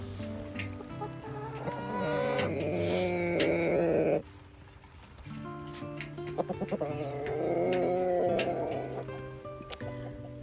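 Chickens cluck and call repeatedly at close range in a homestead duck tractor on a wet winter day, their voices layered and continuous with a brief quieter pause midway.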